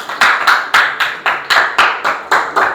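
A Grade 10 classroom claps for a student in a loud, close, regular rhythm of about a dozen sharp, evenly spaced group claps.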